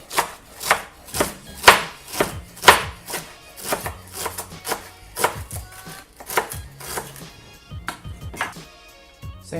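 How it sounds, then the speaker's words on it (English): A knife chops cabbage finely on a cutting board for fish tacos, with close, crisp rapid strikes at a fairly steady rhythm and no one speaking. "I'm going to chop that up a little finer"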